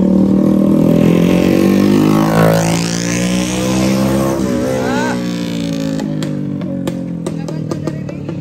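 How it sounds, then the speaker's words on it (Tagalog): Motorcycles passing on a street during a Christmas celebration, engines revving and swelling as they go by, followed by sharp firecracker-like pops toward the end. "Ayun ang mga motor, guys."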